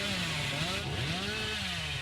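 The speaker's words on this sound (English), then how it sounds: "I was worried I would choke on that chainsaw sprint." Chainsaw sprint in a Dead by Daylight-style horror video game: a steady, loud engine buzz with a rising and falling pitch runs throughout, with no talking.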